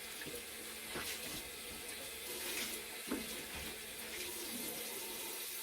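Water runs steadily from a tap to wet a towel, a continuous close splashing rush with small bursts of flow and no talk over it.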